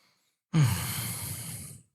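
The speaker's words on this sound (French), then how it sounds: "Prends le temps de respirer 2, 3, 4 fois." A single deep breath during a guided relaxation exercise, a slow, close, breathy exhale lasting just over a second after a moment of silence.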